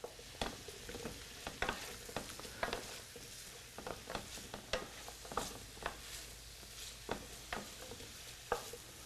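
Portobello mushrooms sauté in a hot pan, a steady close sizzle broken by frequent sharp clicks and scrapes as they are stirred and tossed, with no voices.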